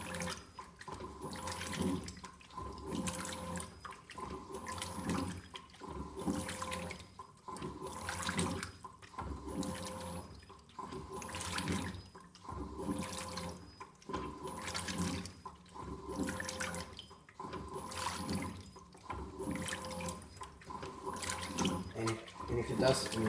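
A Simpson 8.5kg top-loading washing machine nearly full of clothes, agitating in water with a regular back-and-forth churning and sloshing, each stroke a few seconds long, steady and close, with a voice talking at times.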